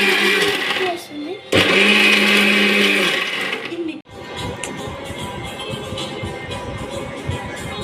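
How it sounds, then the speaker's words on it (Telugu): A mixer blender whirs loudly as it blends mixed fruits into juice. The motor drones close up, cuts out briefly twice and restarts, then grinds on steadily. "ఇప్పుడు జస్ట్ మిక్స్ పెట్టాడు"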